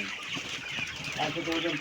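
Chickens at a poultry farm keep up a dense, close chorus of clucking for a brief moment, with a voice mixed into the flock's noise.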